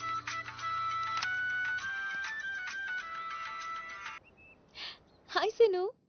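A phone call rings out over speakerphone with a steady, repeating electronic ringtone for about four seconds. After it stops there is a pause, then a few short bursts of a voice.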